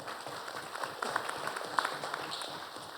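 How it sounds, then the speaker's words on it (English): Scattered applause from a crowd at a board meeting, a patter of claps that swells slightly and continues steadily. "You can give them a round of applause if you would."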